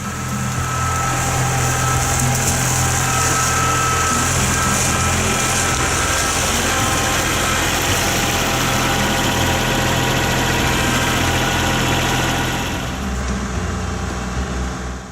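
A Kubota tractor backhoe engine runs at a steady, loud idle close by, with a constant drone and a faint high whine throughout, easing off slightly at the end, with no talk.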